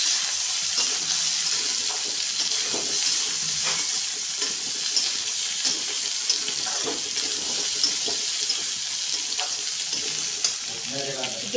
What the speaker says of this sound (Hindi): अब हमें इसे अच्छी तरीके से मिला लेनी है।